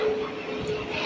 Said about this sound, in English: It's a plane. The plane.